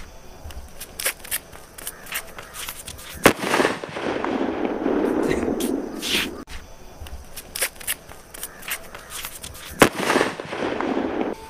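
Several sharp green sutli firecracker bangs burst out at intervals, each followed by crackling and a rushing, hissy roar that lingers between blasts.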